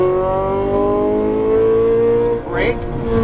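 A Ferrari 458 Italia V8 held at full throttle on a race track, a loud steady high-pitched engine note climbing slightly, with a brief shift dip near the end before it pulls hard again.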